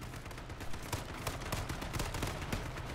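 Rapid bursts of gunfire in the battle royale video game H1Z1, a string of sharp, evenly spaced shots over a steady background hum with no talk.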